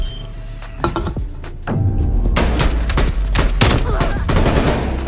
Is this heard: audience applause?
no